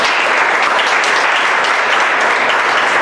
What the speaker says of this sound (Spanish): Le puede dar palmas al Señor.